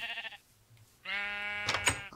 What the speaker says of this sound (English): No, you're staying in there, sheep.